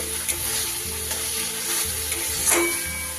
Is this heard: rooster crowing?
no